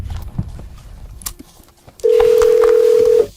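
Muffled room noise gives way to a steady, loud telephone dial tone that holds unbroken for about a second before cutting off.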